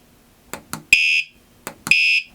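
Two loud, sustained high-pitched electronic beeps from a Fosman bike alarm, each preceded by a couple of quieter clicks from button presses, close by.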